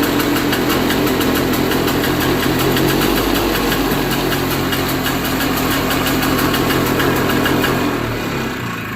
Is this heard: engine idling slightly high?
yes